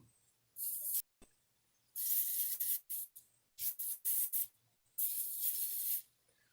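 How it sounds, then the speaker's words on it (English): Penetrating oil sprayed onto a hot rod part in short hissing aerosol bursts, about four close spurts of varying length separated by quiet gaps. "Put a little penetrating oil on it."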